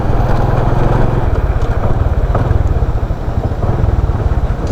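Honda XRM 125 motorcycle engine running steadily close by, a loud continuous low throbbing drone with even rhythmic firing pulses throughout.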